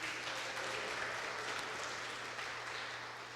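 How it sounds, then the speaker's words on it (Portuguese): Church congregation applause at a Nova Chance Church service, a steady, fairly faint wash of clapping from the audience for a few seconds, slightly fading at the end. "eu não sei se você pode dar um aplauso para Jesus"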